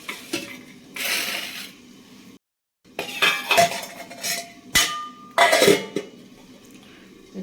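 Empty metal cooking pots and utensils clank and clink as they are picked up and stacked in a home kitchen, with several bursts of rattling metal contact and a brief pause midway.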